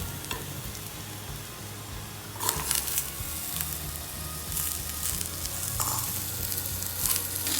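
Onions softened with salt, then mixed vegetables, sautéing in a pan: a steady close sizzle with stirring scrapes and occasional louder clatters of the spoon against the pan.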